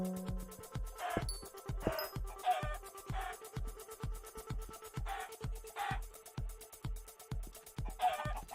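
Blocky, repeated chicken clucks from the Minecraft game Hypixel SkyBlock, arriving in quick irregular bursts over a steady pulsing background, with no talking.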